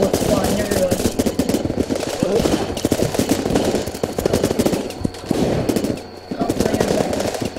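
Rapid gunfire in the video game Running With Rifles, dense bursts of automatic and single shots crackling almost continuously with only a brief lull near the end, under steady in-game battle noise.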